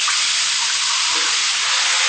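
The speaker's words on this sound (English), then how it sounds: "And then we're just going to add water." Water pours in a steady, loud rushing stream into a cooking pot for a couple of seconds, with no talking.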